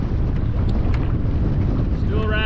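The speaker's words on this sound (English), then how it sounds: "we still got a headwind to deal with" Headwind gusting across the microphone on a canoe trip, a loud continuous low rumble of wind buffeting with faint water sounds and a brief tonal whine near the end.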